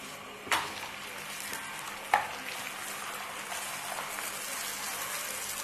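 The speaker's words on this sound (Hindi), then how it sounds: "अभी पराठा पलट दूंगी और ऊपर घी डालूंगी, देसी घी।" Paratha frying in desi ghee in a pan, a steady soft sizzle running throughout with two sharp spattering pops near the start, no voices.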